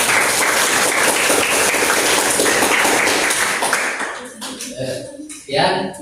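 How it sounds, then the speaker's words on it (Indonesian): An audience applauds together after a classroom group presentation during a teacher certification exam, steady dense clapping for about four seconds before it thins out, with a few voices and scattered claps at the end. "kita beri aplaus"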